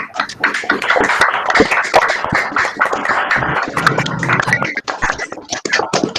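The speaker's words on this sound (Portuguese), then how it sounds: "Vamos bater palmas para os microfones" A small group applauds at the end of a university mini-course lecture, close scattered claps with rustling and handling noise, loud and uneven throughout.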